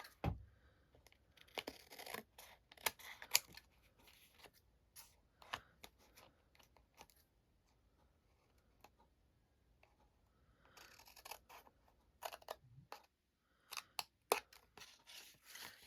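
Scissors snip through paper in a quiet close-up series of short crisp cuts and rustles, scattered irregularly with pauses, faint overall.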